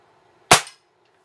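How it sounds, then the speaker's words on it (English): A single sharp crack comes from a Crosman 1322 air gun firing a Crosman hollow point pellet. The shot is close and loud, decays quickly, and is framed by quiet on either side. "First shot is going to be with the Crosman hollow point."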